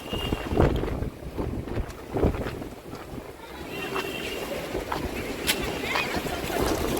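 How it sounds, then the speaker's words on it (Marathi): Strong wind buffets the microphone in heavy gusts at night as rain begins, a constant rushing roar with scattered rattles and knocks. "एवढा वारा सुटलाय ना पुढे चालता पण येत नाही"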